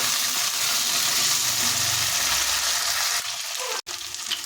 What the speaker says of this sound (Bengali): এবার কেটে রাখা আলুগুলো দিয়ে দেব দিয়ে একটু তেলের সাথে নাড়াচাড়া করে নেব